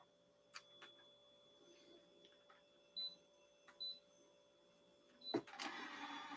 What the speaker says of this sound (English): that was the sound of me closing my printer tray